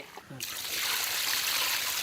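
Water is poured into mutton curry as it cooks in a village-style kitchen. A brief voice comes first, then a steady, close splashing pour fills the rest.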